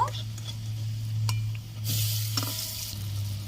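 Lentil fritter turned over in sizzling oil in a wok, a steady frying hiss with a couple of short utensil clinks and a brighter burst of sizzle as it flips, a voice speaking faintly underneath.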